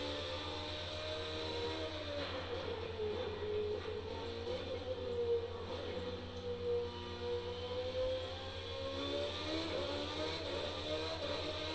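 A loud car engine in The Crew 2 racing game drones steadily throughout and rises and falls slightly as it revs. The tone is constant and close, and no one speaks.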